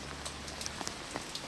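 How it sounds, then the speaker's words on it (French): Light rain patters steadily on a surface, with scattered distinct drops tapping nearby. "il pleut"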